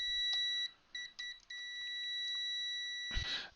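Habotest HT208D clamp meter giving continuity-test beeps: a thin, steady electronic tone that starts and stops a few times, then holds, heard close and alone with a brief clatter of test leads at the end.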